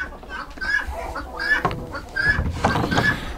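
Chickens on a small farm clucking nearby in short, irregular bursts, with a few louder calls and rustling movement throughout.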